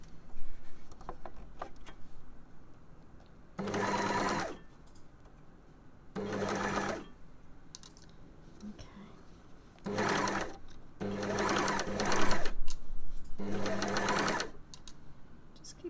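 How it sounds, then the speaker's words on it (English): An overlocker stitches a sports bra seam in several loud, steady bursts of a few seconds each, with quiet pauses in between as the fabric is lined up, close by. "we can take it to the overlocker and stitch it all together"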